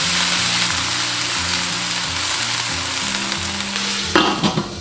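Crab pieces fry in a hot wok with scallion and ginger as red wine is poured in, a loud continuous sizzle with a steady background hum, then sharper crackling and spattering near the end.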